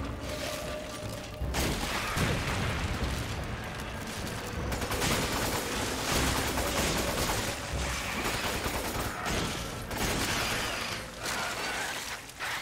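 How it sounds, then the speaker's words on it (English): Grenade launcher fire in the shooter game Resident Evil 5, heard as a dense stretch of gunfire, mechanical clacks and explosive bursts in a busy game mix, fairly quiet overall. "this is a great moment for my fucking grenade launcher"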